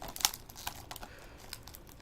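Cellophane wrap is torn off an Xbox One Project Spark Starter Pack game box, making quiet close crinkling and tearing with a few short crackly bursts.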